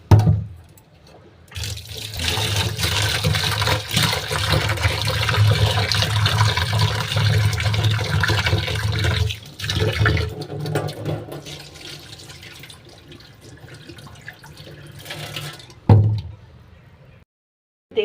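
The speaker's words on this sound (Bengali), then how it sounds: "বিউলির ডালটা আমি বেশ 2-3 বার ধরে ধুয়ে নেব।" Biuli (urad) dal lentils being washed in water, with a steady, close sloshing and splashing of water that runs for most of the stretch, pauses briefly, then resumes before stopping.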